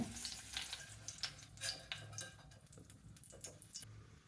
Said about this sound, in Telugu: బెండకాయ ముక్కలు ఇట్లా సిక్స్టీ పర్సెంట్ వేయించేసుకుందామండి